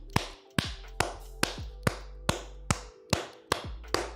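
Sharp percussive claps repeat at a steady rhythm, about nine in four seconds, close and crisp with a hum underneath.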